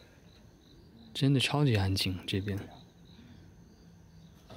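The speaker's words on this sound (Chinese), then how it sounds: "完全就听到那个蛐蛐的声音。" Crickets chirping outside at night beside a high school, a faint steady trill under a person speaking.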